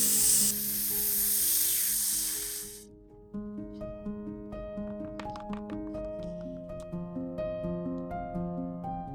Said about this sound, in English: Open the pressure relief valve.